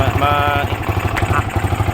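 Yamaha R15 V2 motorcycle engine at cold start with a misfire, idling unevenly in a steady pulsing putter that sputters and wavers, close and loud, with a brief whine early on.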